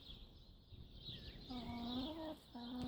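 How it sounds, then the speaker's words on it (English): A neighbour's chickens cluck and call outdoors, faint and at a distance, with a couple of drawn-out tonal calls standing out over low background noise. "these are the neighbour's chickens"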